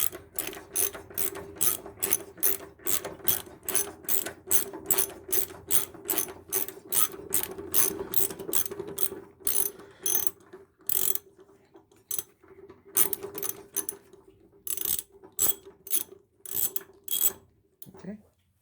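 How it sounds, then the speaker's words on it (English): A hand ratchet wrench turns a bolt on a lawn mower deck, its rapid clicking strokes coming in repeated bursts close by, with short pauses between runs and no talking. "Okay, got my ratchet."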